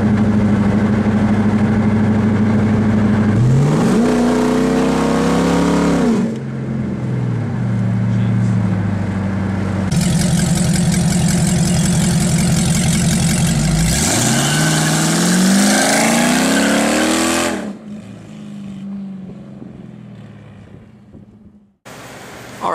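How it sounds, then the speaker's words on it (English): Dodge Charger with a 5.7L Hemi V8 running a straight-pipe exhaust through short-tube headers, cruising around 1500 RPM near 45 mph with windows down: a loud, steady low exhaust drone with revs swelling and easing, then dropping to a quieter rumble at the end. "So here we are cruising at about 1500 RPM with doing about 45-ish"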